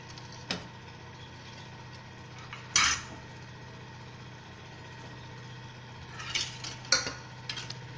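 Dudhi kofta dumplings go into a pan of spiced gravy and are stirred, giving a few brief metallic clinks and scrapes of a spoon against the pan over a quiet kitchen hum.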